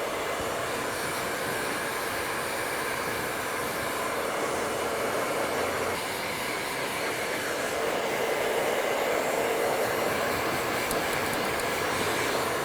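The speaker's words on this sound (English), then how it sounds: "You can dry the hair till it's completely dry" A hair dryer drying a man's hair, blowing a loud, steady, broadband whoosh close up for over twelve seconds without pause or talking.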